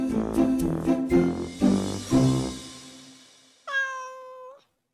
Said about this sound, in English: Cat stuck in the tree.